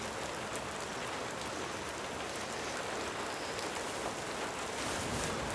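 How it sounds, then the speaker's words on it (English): Heavy rain pours steadily at a carp fishing lake, a dense, continuous hiss of drops on surfaces that stays loud and unbroken throughout, with no talking. "Well, it's rained, it's rained, it's rained some more."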